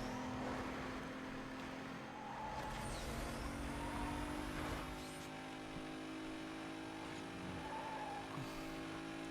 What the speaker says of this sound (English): I forgot Earl's in that Mitsubishi Evo